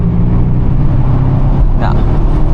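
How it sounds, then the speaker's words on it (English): A Mercedes S-Class exhaust burbles while driving, a loud, steady low rumble from inside the cabin that continues without a break, with a brief higher whoosh near the end. "Hear the burbles."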